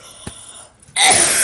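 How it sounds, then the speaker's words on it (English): A person sneezes once, loud and close, after a brief quick intake of breath. "That's how I sneeze in school."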